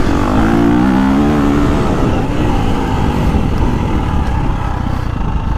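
A loud KTM 350 dirt bike engine revs up close in gear, a rough sustained roar that rises in pitch, then settles and eases off.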